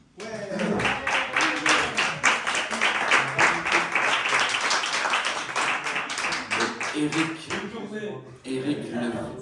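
A concert audience at Fermaculture, Bossière, bursts into sustained clapping for the barman, dense and steady for several seconds, with a voice talking briefly before the applause and again as it fades.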